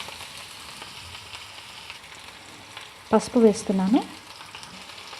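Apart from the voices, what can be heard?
ridge gourd pieces frying with chillies and garlic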